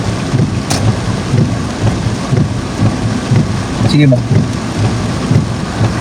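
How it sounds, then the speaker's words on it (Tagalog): Steady rain falls at a strawberry farm in La Trinidad, Benguet, a dense, continuous patter with a low rumble like distant thunder, while people talk briefly over it. "Yan, may ulan. Umulan lang talaga."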